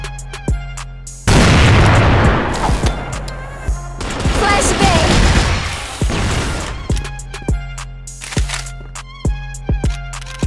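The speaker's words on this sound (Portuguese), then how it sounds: "Flashbang!" A flashbang grenade goes off in the shooter game CrossFire as a sudden loud burst, followed by a dense roar of blast and gunfire noise, then sharp scattered clicks and shots, with a player's voice in the background.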